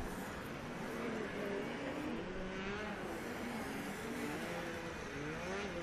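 Racing snowmobiles at a Russian snow cross championship in Novy Urengoy drone continuously with wavering, revving engine tones, moderately distant, one machine passing as the pitch shifts.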